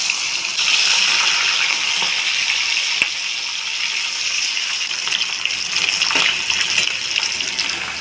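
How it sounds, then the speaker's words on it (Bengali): Fish rubbed with salt and turmeric frying in hot oil, a steady loud hiss and crackle that runs unbroken throughout with no voices. "এবার মাছগুলোকে ভেজে নেব।"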